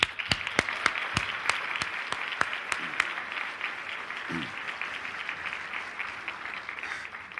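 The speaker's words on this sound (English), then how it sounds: "Please join me in giving a round of applause for Yehuda and Mashi Polstein" An audience applauds for Yehuda and Mashi Polstein, steady applause with several sharp, closer individual claps standing out early before the sound settles into an even, sustained patter for the rest of the stretch.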